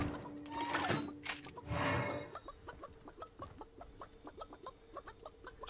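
A chicken character in the game Realm Royale, played on PS4 Pro, clucks in quick repeated bursts after a couple of louder rustling thumps, the short clucks continuing rhythmically and fairly close with no talking.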